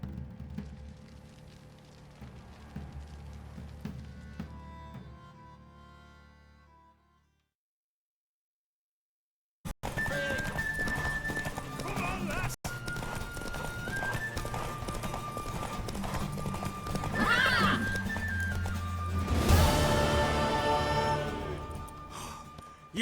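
Horse hooves clip-clop and a horse neighs in The Witcher 3: Wild Hunt, with the steady galloping loud and close. A short silent gap breaks it, then louder hoofbeats and a whinny return.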